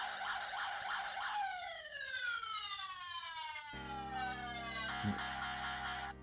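Battery-powered toy siren from a 1:43 scale Aurus Senat presidential motorcade model car, a loud electronic wail that sweeps down, then switches to a second, different two-tone pattern with a brief click partway through.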